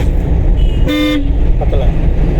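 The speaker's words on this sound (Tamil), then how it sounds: "ஹார்ன் அடிச்சு" A car horn sounds once during a driving lesson, a single loud toot of about a third of a second over a steady interior engine hum.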